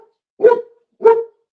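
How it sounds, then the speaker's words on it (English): A neighbor's dog next door barks twice in short, loud, separate bursts, close and clear with silence in between. "The dog next door is now just howling and baying."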